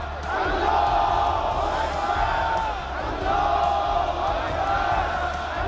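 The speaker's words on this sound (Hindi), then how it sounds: "वैसे ही वहां मौजूद भीड़ नारे लगाने लगी" A large street crowd chants slogans in unison at night, a loud, sustained roar of many voices rising and falling in rhythmic waves throughout.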